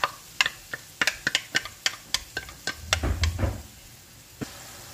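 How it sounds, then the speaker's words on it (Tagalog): Onions and chopped tomatoes cooking in a pan for a spare ribs dish, heard as a series of sharp utensil clicks and knocks against the pan over a soft sizzle, with a brief low rumble midway, close and fairly quiet. "At yung ating onions or at lutuin din natin yung ating pinaka-chop-chop na kamatis."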